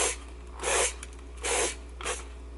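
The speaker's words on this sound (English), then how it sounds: "I'm going to spray the inner pot with some oil." Three short hissing bursts from a spray can of oil into the inner pot of a Ninja Foodi, evenly spaced and close by.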